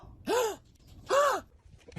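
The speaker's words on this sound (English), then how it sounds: "Gasp at your dog and see what they do" Someone gasps dramatically at a dog: two sharp, voiced intakes of breath with a rising-then-falling pitch, close and clear, separated by a short pause in a quiet room.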